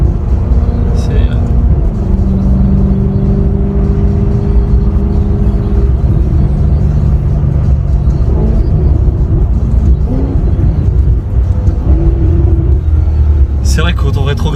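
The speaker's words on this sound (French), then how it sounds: "C'est vrai qu'au rétrograde, ça fait un joli petit bruit" A Maserati GranTurismo S engine drones steadily and shifts pitch a few times, consistent with downshifts and throttle blips, with people talking over it throughout.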